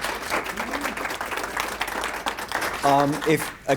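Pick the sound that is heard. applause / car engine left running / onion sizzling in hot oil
applause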